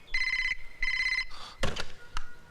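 An old telephone ringing in a Bollywood film scene, with two long electronic rings followed by a handset clattering up and thumps of it being handled.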